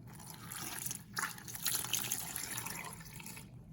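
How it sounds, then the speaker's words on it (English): Water poured from a measuring cup into an Instant Pot holding beef stew ingredients, a steady close splashing trickle running for several seconds with no talking. "I have 2 cups of water that I'm gonna add"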